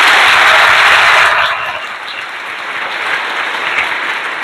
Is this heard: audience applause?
yes